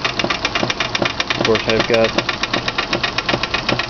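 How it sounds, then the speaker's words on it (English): A miniature antique vertical marine steam engine with Stevenson's reversing gear chuffs in a steady, rapid rhythmic beat close by, with someone talking briefly over it. "my little unknown vertical steam engine that was used in a marine application"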